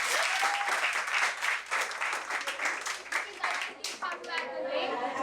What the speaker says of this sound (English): everybody should give her a round of applause